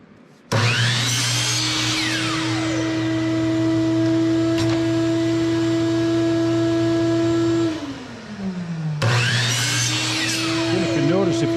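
Small benchtop saw running as it cuts short wooden splines for spline joinery, a steady loud motor whine that holds, then winds down toward a stop before starting up again near the end.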